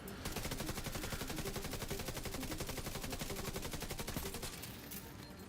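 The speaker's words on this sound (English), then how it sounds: "This assault rifle actually feels pretty good." Rapid automatic assault rifle fire in The Division 2, a steady stream of closely spaced shots running almost the whole time at even loudness before easing off near the end.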